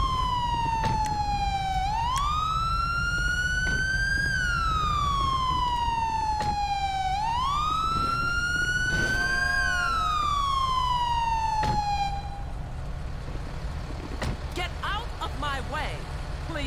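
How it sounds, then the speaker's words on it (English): A police siren from the FivePD video game wails in long rising and falling sweeps, steady and prominent, repeating twice before cutting off near the end, with faint background noise after. "you can turn your siren off"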